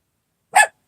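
One short, sharp dog bark, close and loud, after a moment of silence.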